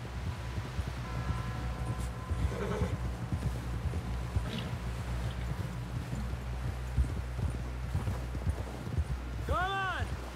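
Horse hooves clip-clop steadily at a walking pace in the Red Dead Redemption 2 video game, a continuous rhythmic clatter under game characters' voices, with a brief whinny-like tone near the end.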